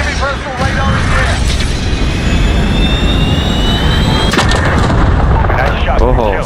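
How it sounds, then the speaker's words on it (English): Cruise missile strike in the game Call of Duty Modern Warfare 2019 during a search and destroy match: a loud jet-like roar and whistle builds, then a heavy explosion boom follows near the end, with voices heard talking. "Jaguar 3-0, cruise missile away"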